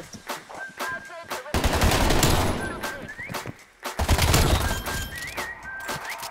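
Fast AMP-63 pistol fire in Black Ops Cold War, two long, loud bursts of rapid close shots separated by a brief gap, with scattered single shots and in-game beeps around them.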